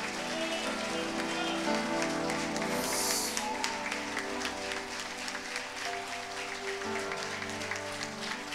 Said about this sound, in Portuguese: Aplauda aquele que vive e reina na congregação dos santos.